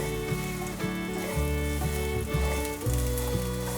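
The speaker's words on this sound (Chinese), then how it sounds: "把姜丝炒香，" Ginger strips sizzle in hot oil left over from frying taro, crackling steadily under a spatula as they are stirred around the wok with several scraping pushes, close up and with no one speaking.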